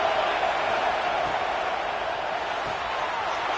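A packed stadium crowd at an Alabama versus Florida college football game roars loudly and steadily, a dense, unbroken wall of noise with no distinct individual voices.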